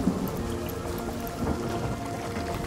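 Rain falls in the fantasy role-playing game Divinity: Original Sin, a steady close patter and wash of water with faint low rumbles underneath, no voices.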